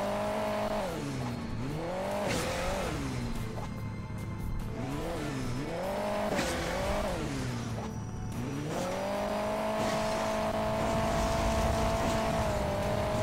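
Hill Climb Racing 2 vehicle engines rev and race in a mobile game, rising and falling in pitch through repeated accelerations before settling into a steady high drone, loud and continuous with no talk.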